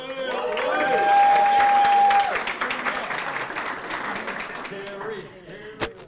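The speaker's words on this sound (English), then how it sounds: "if we could hold all of the applause until the end, that would be great" Audience applause fills a chamber of commerce annual meeting, a dense sustained clapping that swells and then gradually thins, with a voice speaking over it and a sharp knock near the end.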